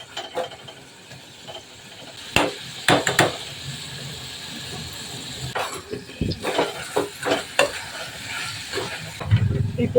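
Onions and potatoes sautéing in a pan for a chana biryani, with a soft steady sizzle broken by several sharp scraping stirs of a spoon against the pan, close and fairly quiet, no talking.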